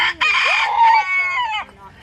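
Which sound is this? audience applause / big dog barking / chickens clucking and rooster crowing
chickens clucking and rooster crowing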